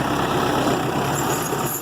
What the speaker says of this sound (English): you can hear the chains